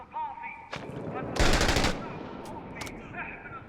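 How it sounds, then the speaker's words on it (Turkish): Gunfire rings out in the war video game Six Days in Fallujah: a loud, rapid automatic burst of about half a second, then a shorter pair of shots, set against faint background game sound. "Onlara sıkıyorum."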